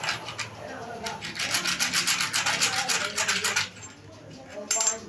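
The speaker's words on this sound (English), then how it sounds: "you use it to rub the ground, to rub the floor. That's cement floor." A steel blade scraped back and forth against a cement floor for sharpening, giving a rapid series of loud, gritty rasping strokes that stop abruptly, then a brief final scrape.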